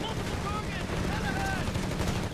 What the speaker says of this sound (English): After being hammered, Panzer Pioneer being shot back in return.